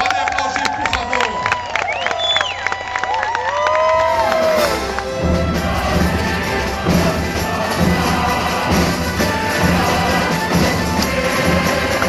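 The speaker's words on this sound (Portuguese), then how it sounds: "sob a regência do maestro Isaac Karabchevski, pode aplaudir, por favor" A crowd at an orchestral concert bursts into applause and cheering, mixed with lingering orchestral tones. The crowd noise is loud and sustained, swelling after the first few seconds and continuing to the end.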